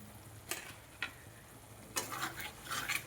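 Ridge gourd and potato sautéing with chilli and turmeric powder, a faint sizzle with a few separate stirring scrapes, quiet and close, with no voices.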